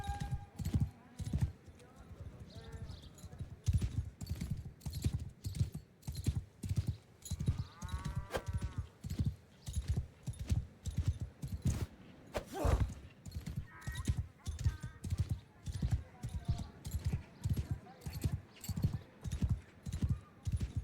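Rapid rhythmic hoofbeats clatter steadily throughout as a horse gallops in a video game, with a brief whinny partway through and scattered game sounds mixed in.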